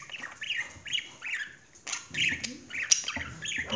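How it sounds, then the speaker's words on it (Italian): A small bird perched on a windowsill pecking at crumbs of wholemeal bread gives repeated short, bright chirps and squawks in clusters, fairly close and clear with no talking. "Questo bellissimo uccellino"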